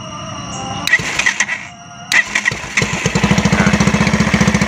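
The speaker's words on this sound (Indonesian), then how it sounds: "atau langsung hidup ya, mesinnya langsung nyala." After a few clicks and clatters, a motorcycle engine fires up and runs into a steady, close-up chugging idle.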